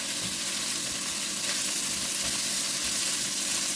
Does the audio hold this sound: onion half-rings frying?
yes